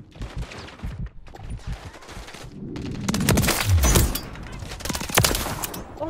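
Rapid bursts of automatic gunfire from a UMP submachine gun in Call of Duty Modern Warfare, dense cracking volleys that thicken in the second half, with a voice talking faintly under the early part.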